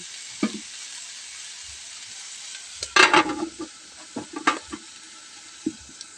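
Pinakbet vegetables frying in a pan, with a soft steady sizzle under occasional scraping and clinking stirs of a utensil against the pan, close by.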